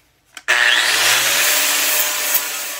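A sanding disc grinds the sheet metal of a 1947-55 first-series AD truck cowl panel. After a brief knock, a loud, steady abrasive roar runs without a break, close up and alone.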